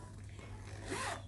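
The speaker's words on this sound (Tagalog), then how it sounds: "So may zipper siya dito para sa mga coins." A zipper on the coin pocket of a sling bag is pulled once in a single steady rasp, close to the microphone, with the zip growing louder and brighter toward the end.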